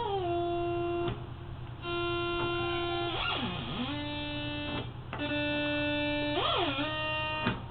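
A synthesizer plays a short phrase of held triangle-wave notes that glide between pitches, with a buzzy, harmonic-rich tone over a steady low hum.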